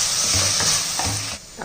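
Chopped tomatoes and onion frying in a pan for an iron-rich gravy, a constant loud sizzle broken by the scrape of a spoon stirring a few times, with no one talking.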